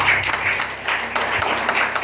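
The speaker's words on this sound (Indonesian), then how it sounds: "Tepuk tangan untuk Pak Nugra." A room of attendees claps for a presenter at a product education session about Nano Water Can, a continuous even patter of many hands with some voices mixed in throughout.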